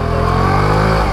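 A bike engine revs hard and steadily at close range while stuck on a sandy off-road slope, one loud sustained drone with no speech.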